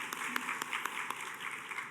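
Applause from a church youth congregation during a Sunday worship service, steady dense clapping from many hands at moderate level, with sharper individual claps poking through.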